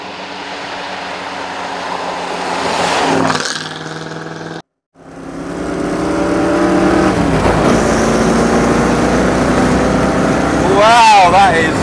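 A Shelby Mustang supercar's engine roars loudly and steadily, cutting out briefly and then building again with rising revs as the car drives on, with talk running underneath.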